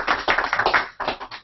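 A small office audience claps briefly after a talk, a short scatter of close hand claps in two quick bursts with a slight pause between.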